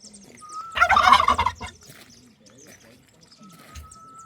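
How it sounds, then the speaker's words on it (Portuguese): Turkeys answer a man's whistle with one loud burst of rapid gobbling close by, between a thin sustained whistle before it and another after it. "Daniel mexendo com os perus"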